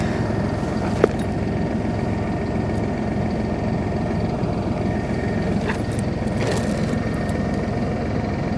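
A tractor engine runs in a Montana alfalfa hay field during second cutting, a steady low drone, moderately close, with faint scattered clicks and no talking.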